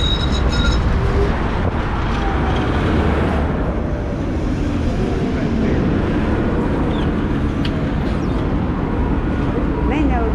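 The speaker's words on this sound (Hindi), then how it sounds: "दो ट्रेन एक दूसरे के पीछे चल रही है।" Two trams in Belgrade run one behind the other, a loud steady rumble of wheels and motors with rail squeal and passing traffic, continuous throughout the clip with a voice talking underneath.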